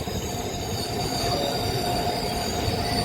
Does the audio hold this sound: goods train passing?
yes